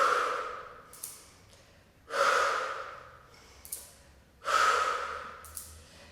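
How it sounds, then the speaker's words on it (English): Slow, deep breaths out and in during a Pilates shoulder exercise with weights, with three long, close airy exhales rising and fading in a steady cycle and softer inhales between them. "So breathe out, breathe in."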